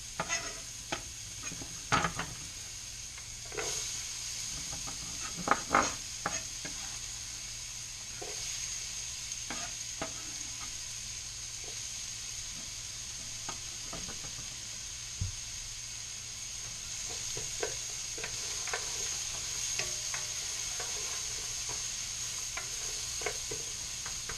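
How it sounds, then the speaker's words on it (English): Onions fry in a pot for mushroom barley soup, a steady sizzle with occasional stirring scrapes and clicks throughout, no talking. "We're going to cook this down now until the onions become"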